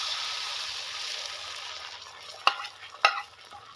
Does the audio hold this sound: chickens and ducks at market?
no